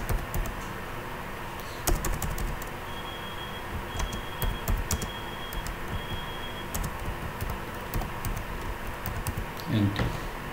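Keystrokes on a computer keyboard while a router command is entered, a steady patter of close clicks with occasional louder taps over a constant background hum, with a brief rustle near the end.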